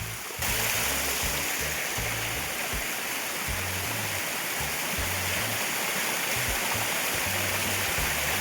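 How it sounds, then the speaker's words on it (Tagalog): Cold spring water flows steadily and continuously at a natural spring, a broad, even rush of stream-like water close by that holds at a constant level throughout, with no voices. "Ayan, tuloy-tuloy yung tubig, ano."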